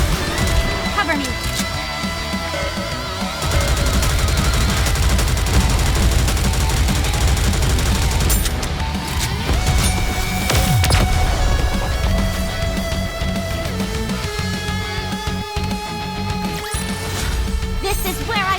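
Rapid gunfire and heavy bombardment from the NIKKE battle game, a dense continuous barrage of shots and explosions under music, with character voice lines calling out over it.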